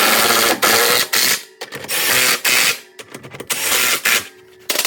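A hand ratchet tightens a bolt on a Jeep bump stop, giving loud, close bursts of rapid clicking that start and stop in short strokes with brief pauses between.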